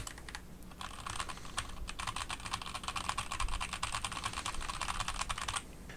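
Typing on a computer keyboard at a slower, steadier pace, with distinct close key clicks that start after a short pause and continue to near the end, no voices.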